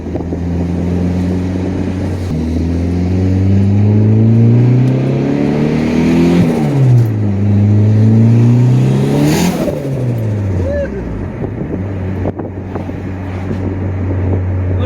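A boosted Honda Accord engine revs hard through the gears with VTEC engaging around 4,300 rpm, its loud, rising pitch falling back between shifts, with some wind noise over the microphone.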